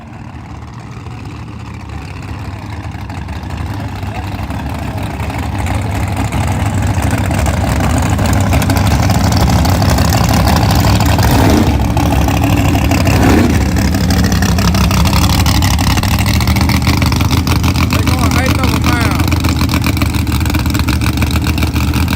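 A car on radial tires does a burnout at a drag race. A loud, sustained engine roar and tire squeal build over the first seconds and then hold at full volume, with no talk.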